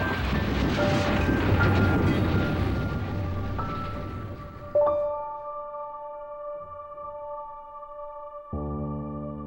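A train runs through the Amazon rainforest on Awá land: a loud, close rumble of wheels fades away, then long sustained horn-like tones ring out and return with a fresh burst.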